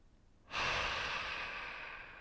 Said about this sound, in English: Take one more deep breath in.